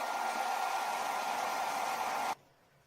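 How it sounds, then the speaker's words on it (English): A hairdryer blows a steady, loud airy roar while warming about 100 ml of water in a workshop, then cuts off abruptly, leaving faint room hiss. "This can be done in the workshop using a hairdryer."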